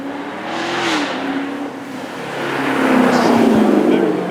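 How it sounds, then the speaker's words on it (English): A UK-spec Chevrolet Camaro with a 6.2 litre, 455 horsepower V8 rumbles past at a supercar event at Beaulieu, its deep engine note swelling from moderate to louder as it approaches, steady and continuous. "American V8 sounds absolutely glorious"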